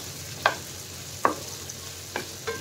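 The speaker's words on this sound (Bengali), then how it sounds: "ফোড়নটার সাথে আমলাটা একটুখানি ভাজা ভাজা করে নিতে চাইছি।" Amla (Indian gooseberry) frying with tempering spices in a nonstick pan over low flame, heard as four short, separate scraping stirs against a quiet, faint background sizzle.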